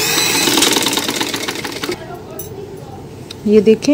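Sewing machine running rapidly while stitching eyelet lace onto a baby summer dress, a dense rattling buzz for about two seconds that then stops, followed by quieter handling noise and a brief voice.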